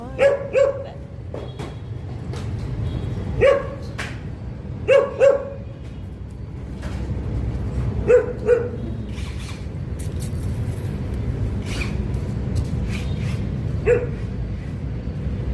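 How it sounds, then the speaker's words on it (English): Puppies in Hanoi, Vietnam bark and yip in short sharp bursts, some in quick pairs, spread over a steady low street rumble with traffic in the background. "Oh, look at all the puppies."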